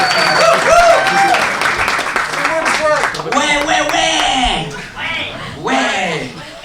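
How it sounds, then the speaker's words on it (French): An audience at a stand-up comedy show applauds and cheers as the next comedian is introduced, loud clapping and whoops mixed with voices, swelling and then easing off toward the end. "On commence à applaudir le prochain"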